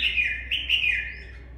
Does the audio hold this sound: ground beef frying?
no